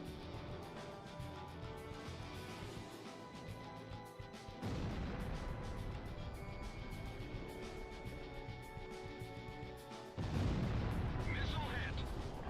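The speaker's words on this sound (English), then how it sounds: "Missile hit." A missile hits in an Ace Combat Zero dogfight, producing heavy explosion bursts that jump in loudness twice and then roll on over a droning jet-game background, with a voice talking underneath.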